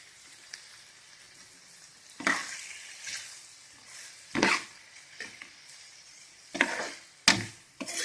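Chilli chicken frying in a pan with tomato sauce added, a soft steady sizzle broken by several louder bursts of stirring and spattering, heard close up with no talking.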